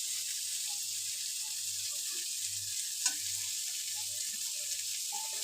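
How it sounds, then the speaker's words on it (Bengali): Cauliflower fries in oil, giving a faint, even sizzle that runs steadily throughout, with one small clink near the middle and no speech. "আমাদের ফুলকপির ভাজাটা প্রায় রেডি।"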